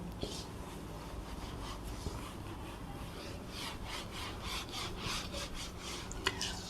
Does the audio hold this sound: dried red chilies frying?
no